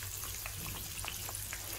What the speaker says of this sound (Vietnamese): Mình chiên mình cũng phải chở cái miếng thịt nha các bạn